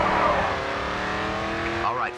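Race car drifting in GRID 2: a steady engine drone with a sustained tire squeal that rises in pitch toward the end, with a voice speaking over it.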